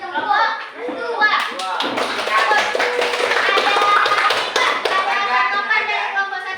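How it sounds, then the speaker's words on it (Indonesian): A classroom of students claps for a student group, starting with scattered claps and then swelling into sustained, fairly close applause, with children's voices mixed in. "Dah kasih aplaus untuk kelompok."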